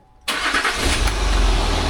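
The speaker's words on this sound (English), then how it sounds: "start the engine" A Land Rover engine starting after a short silence: a loud, close crank that catches and settles into a steady, rumbling idle.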